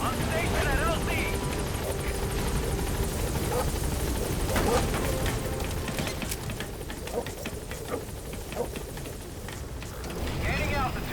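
Helicopter rotor thumping steadily as it arrives at a landing zone in Metal Gear Solid V, a loud continuous drone with game radio voices talking over it.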